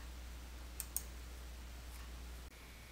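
A mouse clicks the OK button of a delete-schedule confirmation dialog in QuickBooks Desktop Pro 2021: two faint, sharp clicks in quick succession against a quiet room hum.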